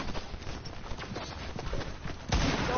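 Rapid gunfire in a shooter video game, a dense run of sharp repeated shots and impacts over continuous game noise, with a louder burst near the end.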